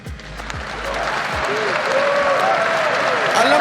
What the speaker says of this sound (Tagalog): ba't kayo pumalakpak?